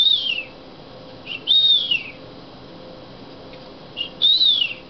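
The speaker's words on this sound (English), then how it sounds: "If I whistle," A person whistles outdoors during a snowy blizzard while feeding birds, giving three short rising-and-falling whistled calls separated by pauses, heard over a steady wind hiss.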